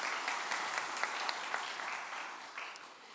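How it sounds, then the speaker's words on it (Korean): A congregation at a Sunday church service claps together in a warm, sustained round of applause, steady hand claps filling the room at moderate distance. "축복의 박수"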